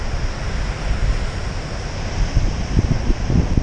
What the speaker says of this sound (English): without all the wind, of course.